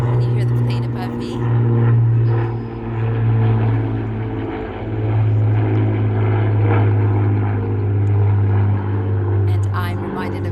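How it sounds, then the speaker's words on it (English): Plane flying overhead, a low droning engine hum that swells and fades while someone speaks calmly and continuously over it. "Can you hear the plane above me?"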